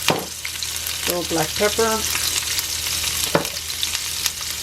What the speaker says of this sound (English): I'm going to saute the poblano chiles that I had cut up earlier.